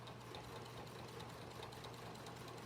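A sewing machine fitted with a size 11 blue-tip needle stitches slowly through many thick layers of fabric, giving a steady, close mechanical hum with rapid rhythmic knocking pulses that run continuously with no voices.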